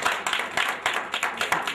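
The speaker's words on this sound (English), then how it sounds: "Please clap for her." A small workshop audience claps in quick, uneven bursts at moderate volume, brief and somewhat thin, during an entrepreneurship development session.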